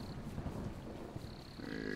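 Deep, rumbling thunder from a video game storm rolls on continuously at moderate volume, with faint high tones from the game layered on top.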